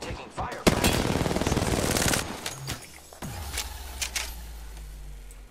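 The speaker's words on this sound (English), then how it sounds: "I am taking fire." Gunfire in the Apex Legends video game: a dense, loud burst of rapid automatic shots runs for about two seconds, followed by scattered single shots, impacts and a low humming tone.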